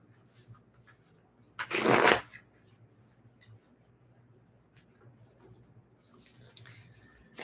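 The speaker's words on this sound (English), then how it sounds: "Let's shuffle some cards here and see what we can come up with." A single brisk burst of tarot cards being shuffled, lasting about half a second, in an otherwise quiet room with faint rustling afterward.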